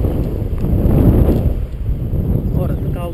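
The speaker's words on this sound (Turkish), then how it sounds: "Şimdi kaldırıyor bizi bir rüzgar." Wind rushing past while paragliding, a loud steady roar that swells and eases, with a brief voice-like sound near the end.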